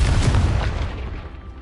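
Confringo blasting curse explosion in Hogwarts Legacy: a single loud, deep boom that rolls off and fades over about a second and a half.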